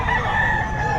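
A five-month-old Sweater breed rooster crows at a busy pet market, one loud, close, sustained call filling the brief moment.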